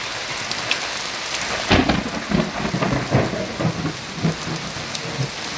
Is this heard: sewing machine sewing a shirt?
no